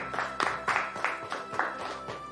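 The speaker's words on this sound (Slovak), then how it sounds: "To chce aj potlesk podľa mňa." Studio audience on a reality show applauds in a moderate, fairly soft burst of clapping with rhythmic pulses, heard alone without talk.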